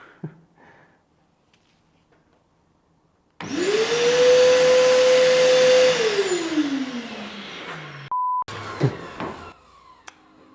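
After quiet handling noises, a PROFI-TEC PVC1430 construction vacuum cleaner, rated up to 80 dB, switches on with a loud whirring whine, runs steadily for a few seconds, then winds down as it's shut off.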